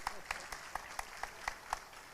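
A sparse, hesitant audience at a Ramadan religious lecture claps in an even, steady rhythm, about four claps per second. The claps are faint and distant.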